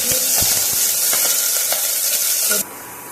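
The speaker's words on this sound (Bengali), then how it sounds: "তেলটা গরম হয়ে গেলে দিয়ে দেবো পেঁয়াজ কুচি।" Chopped onion frying in hot oil for a quick pasta, a loud continuous sizzle with a few stirring scrapes, then cutting off abruptly near the end.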